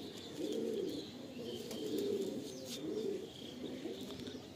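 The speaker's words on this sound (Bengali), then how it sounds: "ফিমেল পায়রা, খুব ছটফটে।" Female Andhra pigeon, restless, cooing in repeated low soft phrases close by, with faint chirps from other birds in the background and no talking.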